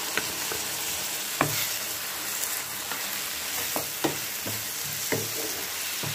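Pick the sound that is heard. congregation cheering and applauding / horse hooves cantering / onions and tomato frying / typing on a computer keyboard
onions and tomato frying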